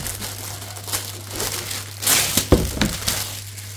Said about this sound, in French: On va éviter tous ces bruits de papier qui sont saoulants.